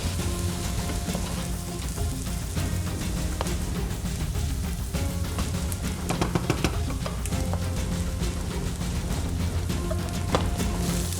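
Vegetables sizzle while being sautéed in a pan with black pepper and nutmeg, giving a steady crackling hiss with occasional clicks of stirring, continuous and close with no talk.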